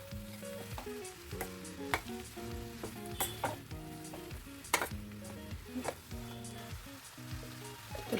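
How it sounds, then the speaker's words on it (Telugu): Ridge gourd pieces fry with onions in a pan as a spoon stirs them, a low steady sizzle broken by frequent scraping and clattering strokes, close and fairly quiet. "ఇప్పుడు మనం కట్ చేసి పెట్టుకున్న బీరకాయ ముక్కల్ని ఇందులో వేసేసుకోండి. దీన్ని బాగా ఆనియన్స్ అన్నీ మిక్స్ అయ్యేటట్లు కలుపుకోండి."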